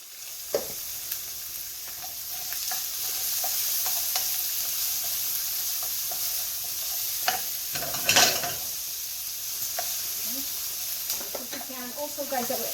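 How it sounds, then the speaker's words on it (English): Shallots and onion sauté in a pan with a steady close sizzle, punctuated by occasional clinks and stirring scrapes, including a louder burst of stirring about two-thirds of the way through. "I'm going to saute my shallots. I'm going to add a little bit of onion, more onion."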